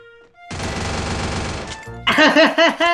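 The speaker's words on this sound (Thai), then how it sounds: "มันยิงคนอื่น" Loud, close automatic gunfire in the Free Fire battle royale game: a dense sustained burst for over a second, then a few heavy, punchy separate shots.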